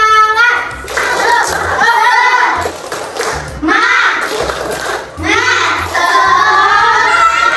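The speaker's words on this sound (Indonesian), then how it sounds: "kita tepuk semangat dulu. Tepuk semangat." Children in a classroom perform a rhythmic 'tepuk semangat' clapping chant, sung voices alternating with bursts of group clapping in a repeating pattern, loud and close.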